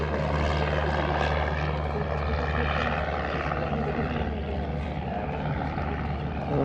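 A propeller airplane takes off at an air display day in Petaluma, California, its engine a steady, fairly loud droning roar that holds without a break.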